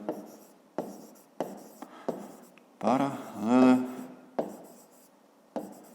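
Pen or pencil writing on paper while working a fifth-grade math exercise, a series of short scratchy strokes in bursts, with a person talking in the middle.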